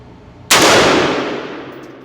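A single sharp report from a budget-built AR-15 rifle cracks out close and loud, then a long echo fades away across open ground, with nothing else heard.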